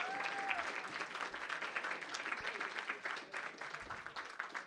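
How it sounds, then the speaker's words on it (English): Audience applause for competing teams at a startup competition semi-final event, dense sustained clapping from a crowd, moderately loud and continuous throughout. "Big round of applause for all those competing teams."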